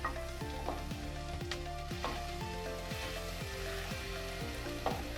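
Chicken with garlic ginger paste fries in hot oil, giving a continuous close sizzle with crackling pops and a few stirring scrapes.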